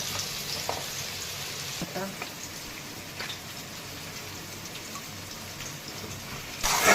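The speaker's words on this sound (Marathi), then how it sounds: "तेलामध्ये जिरी मोहरी कांदा टाकलेला आहे" Onion, cumin and mustard seeds fry in hot oil with a steady crackling sizzle, broken by a few soft stirring taps. A sharp, louder burst of spitting comes at the very end.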